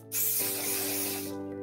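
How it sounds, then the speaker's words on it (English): A hair spray bottle mists down along the grain of the hair during a set-to-dry styling, giving one steady, close hiss of about a second that fades out at the end. "So I'm spraying down with the grain of the hair."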